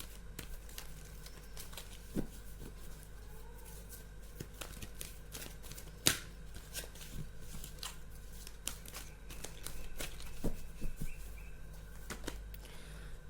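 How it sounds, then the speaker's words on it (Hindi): Tarot cards are shuffled and drawn one at a time, giving quiet, crisp flicks, snaps and soft taps at an irregular pace close by in an otherwise hushed room. "एक एक कार्ड करके निकालते हैं।"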